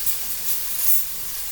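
Two cloves of minced garlic hit hot oil in a pan meant for broccolini, giving a bright, steady close sizzle and hiss for a second or two with no talking.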